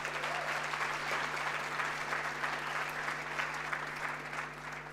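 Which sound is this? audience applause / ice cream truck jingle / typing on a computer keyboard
audience applause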